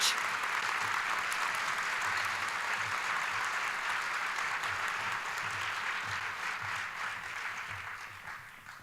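An audience at a business excellence awards event applauds as a mentor award winner comes to the stage, steady dense clapping throughout that slowly fades near the end.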